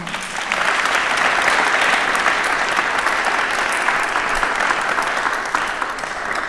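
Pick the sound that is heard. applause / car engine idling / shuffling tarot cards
applause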